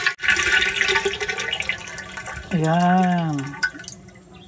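A water tank fills under rushing, splashing flow until an automatic water level control valve shuts off with a brief rising-and-falling whining tone, after which the flow fades, with a voice nearby.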